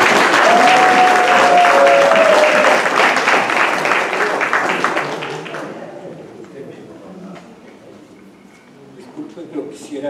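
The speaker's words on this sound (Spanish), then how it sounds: "Aplausos para él" Applause from the audience at a book presentation welcoming the author, loud and sustained for about five seconds with a tonal voice or whistle briefly over it, then fading to a quieter room murmur.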